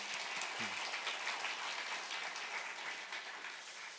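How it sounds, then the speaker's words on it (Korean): Congregation applauding during a church teachers' seminar at a Wednesday service, dense sustained clapping from many hands that stays full and even before easing slightly at the end. "박수 한번 할게요."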